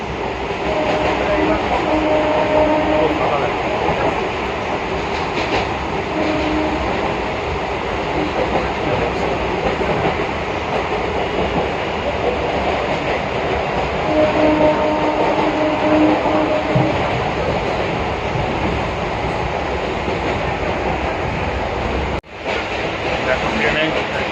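A Bangaon local train rumbles steadily throughout, a continuous loud rolling drone with faint voices mixed in and a brief dip near the end.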